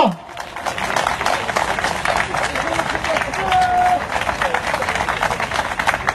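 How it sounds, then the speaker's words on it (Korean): A crowd at a Korean union representatives' rally applauds a member of parliament, a loud sustained burst of many hands clapping that fills the whole stretch with a dense, even patter. "어기구 국회의원님한테 큰 박수 한번 부탁드리겠습니다"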